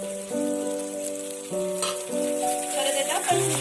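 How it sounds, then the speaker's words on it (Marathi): Spicy brinjal bharit with salt and chopped coriander is stir-fried in a pan, giving a steady close sizzle and hiss beneath tuneful background music. "परत याला परतून घेऊया"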